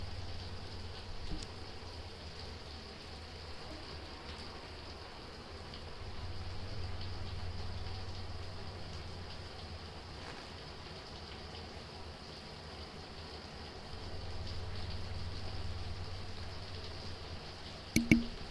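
Shower water runs steadily in a bathroom, a continuous hiss of spray with a low rumble that swells and eases a couple of times, plus a few faint clicks near the end, with no voices.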